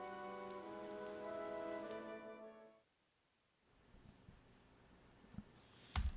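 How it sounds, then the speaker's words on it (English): Rain pours steadily in the video game Fire Emblem: Three Houses, a constant hiss that runs under a sustained musical tone, drops away briefly, then returns with a few soft knocks. "The rain is really coming down now."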